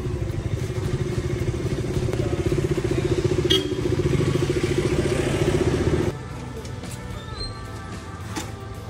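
A motorcycle rides at night through the Athirappilly jungle, its engine droning steadily and close with rattling clatter, the tone dropping a little as it eases off partway through.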